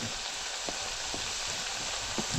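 Onion and potato bhaji frying in oil on a wood-fired chulha stove, a steady close sizzle broken by a few soft clicks and stirring taps.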